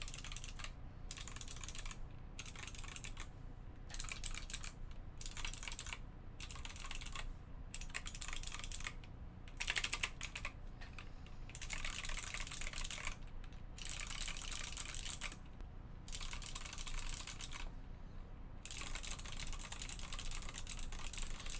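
A Klippe mechanical keyboard with Phoenix switches being typed on, producing rapid, crisp, clacky keystrokes in continuous bursts separated by short pauses, close and alone.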